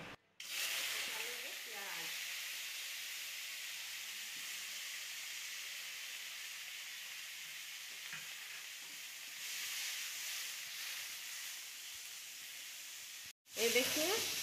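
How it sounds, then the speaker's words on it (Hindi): Onion fries in a tablespoon of mustard oil in a hot kadai for a suran sabzi, a steady close sizzling hiss throughout, with a spoon's occasional stirs and a brief cut near the end. "ये देखिए हमारा प्याज हल्का भून चुका।"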